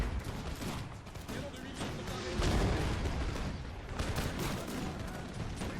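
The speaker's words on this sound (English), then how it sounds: "they are both shooting into the field here, and artillery shelling is continuing on" Musket volleys and artillery shelling on a Napoleon Total War battlefield, a dense, ongoing crackle of distant shots and booms with a swelling surge midway, while someone talks over it.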